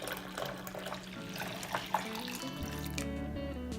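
Cold brew coffee is poured into a pitcher: a quiet, continuous liquid trickle and gurgle close by, with a deeper, fuller pouring tone near the end.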